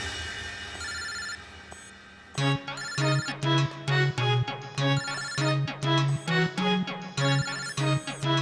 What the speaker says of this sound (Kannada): ಮುಖ್ಯವಾದ ಕಾಲ್ ಬರ್ತಿದೆ ಅನ್ಸುತ್ತೆ